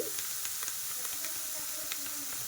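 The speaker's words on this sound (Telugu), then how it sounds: "చూడండి చక్కగా వేగుతుంది కదా" Cabbage frying without onion in a pan: a steady, close sizzle and hiss with small crackles throughout.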